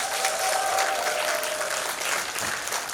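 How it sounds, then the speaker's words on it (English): A round of applause from an audience thanking the DC Public Library hosts at an event, a dense, steady patter of many hands clapping throughout, moderately loud with a faint tone running under it. "Can we give our friends at DC Public Library another round of applause?"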